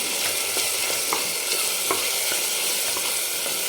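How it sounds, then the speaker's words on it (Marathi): A ginger, garlic, green chili and coriander paste sautéing in a pan, with a steady soft sizzle and light stirring scrapes throughout, close and alone without talk. "तर हे आता आलं लसूण आणि कोथिंबीर छान अशी परतून घेतली"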